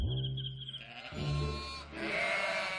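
Dongshan goats from Boluo County, Huizhou, bleat in a few loud, wavering calls that overlap one another close by, with no talking.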